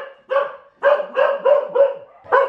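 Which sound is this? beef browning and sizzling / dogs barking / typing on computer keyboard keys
dogs barking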